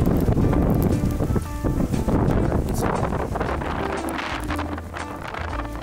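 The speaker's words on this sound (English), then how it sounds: "it's actually getting super windy out here" Strong wind during Hurricane Milton, heavy continuous roaring gusts buffeting the microphone outdoors, loud and steady throughout with rustling and flapping underneath.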